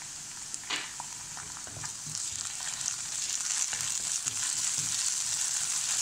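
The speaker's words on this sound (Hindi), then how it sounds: "दो मिनट इसे भून लें" Sliced onions fry with ginger garlic paste in a pan, giving a soft, even sizzling hiss that builds slightly, with a few faint stirring clicks.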